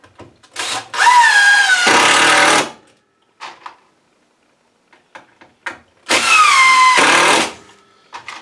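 Power drill driving screws into wooden boards of a pallet rack, two loud close whirring bursts that drop in pitch as each screw seats, with small handling knocks between them.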